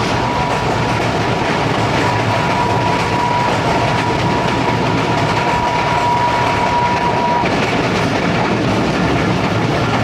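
Allama Iqbal Express train rushing past at speed near an abandoned station, a loud, continuous roar with rhythmic clickety-clack of wheels over rail joints, close by and unbroken for the whole stretch, no voices.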